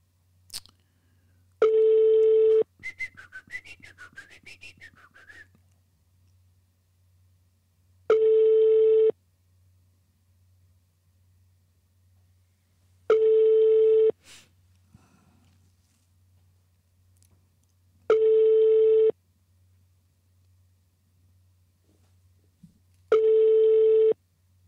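Five identical telephone tone bursts sound at even intervals of about five seconds over a faint steady hum while a call is put through to an operator; a brief electronic warble follows the first burst.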